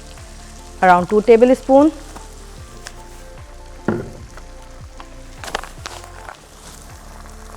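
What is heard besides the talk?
hot sauce sizzling as it is added to the pan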